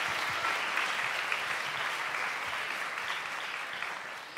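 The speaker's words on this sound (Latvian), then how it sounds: "Paldies, Iveta, un aplausi tev." Warm applause from a concert audience at an awards concert with a symphony orchestra, dense clapping that gradually thins out over a few seconds.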